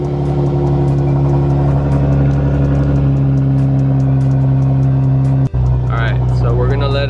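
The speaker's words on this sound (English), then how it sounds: "right now we're gonna turn on the car and see, make sure the levels go where they go." Mercedes-AMG C43 engine starting and settling into a steady, loud idle during a thermostat replacement and coolant flush; a deep continuous drone is interrupted by a brief cutout, then resumes.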